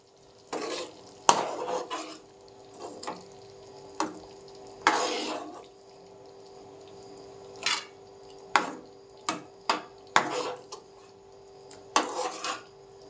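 A pot of Tamil vatha kuzhambu being stirred after spice powder goes in: a sequence of separate clinks and scrapes of a spoon against the metal pot, spaced irregularly over quiet background, close and without speech.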